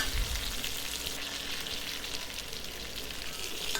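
Curry leaves, shallots, green chili and fennel sauté in oil for a plantain stem kootu, giving a soft, even sizzle that carries on unbroken and fairly quiet.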